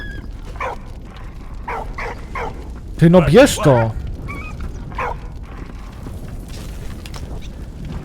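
A dog in the World War I video game Valiant Hearts: The Great War gives a short burst of loud yips and whimpering barks mid-clip, with someone talking before and after.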